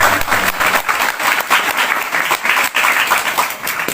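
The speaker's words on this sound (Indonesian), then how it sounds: "Tepuk tangan untuk Pak Ustadz." An audience at a religious and national dialogue gathering applauds an Islamic teacher, with dense, sustained clapping from many hands filling the room, loud and steady throughout.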